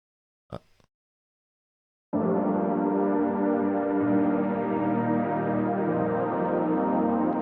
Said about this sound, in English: I think it's a sample I got from Baby Audio.